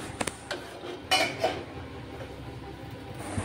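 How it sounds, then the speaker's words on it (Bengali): Utensil clinks against a pot of dalia khichuri as it is stirred and covered, a few sharp metallic knocks early on over a steady low kitchen background, no talking. "এখন আমি নেড়েচেড়ে ঢেকে দেব"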